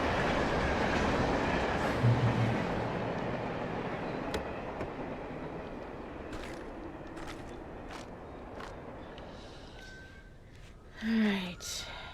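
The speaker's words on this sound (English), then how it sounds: "It's a train." Train passing in the video game Alan Wake, a broad low rumble and rattling clatter that fades gradually, heard under quiet background voices with a brief gasp near the end.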